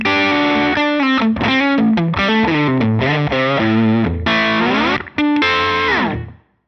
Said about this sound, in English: I just threw in a Matchstick Channel 2 amp in here to sound like this.